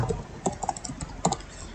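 Keys clatter on a computer keyboard in a quick, uneven run of close, crisp taps.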